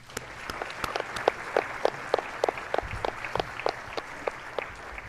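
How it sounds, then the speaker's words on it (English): Applause from the audience at a US Army change of command ceremony, with distinct claps spaced fairly evenly over a steady crowd background. "One more round of applause, please."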